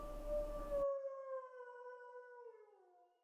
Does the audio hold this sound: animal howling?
yes